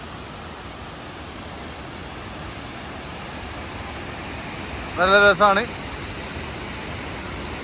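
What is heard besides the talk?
waterfall before Athirappilly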